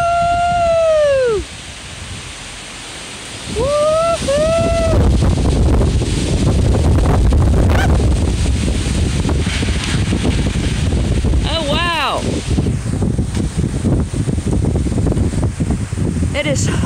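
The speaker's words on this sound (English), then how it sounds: "It is so windy." Strong wind from an arriving norther cold front roars and buffets the microphone almost continuously, with a few high whoops and voices rising over the gusts.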